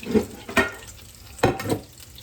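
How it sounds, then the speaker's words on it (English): Taquitos sizzle as they fry in a pan, with several bursts of stirring and scraping, close by and moderately loud, with no talking. "I'm gonna finish frying this up"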